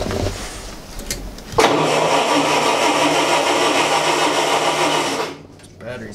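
Chevy Avalanche engine cranking on a cold start with the choke pulled, a loud sustained starter whir and rough engine roar for several seconds before cutting off abruptly.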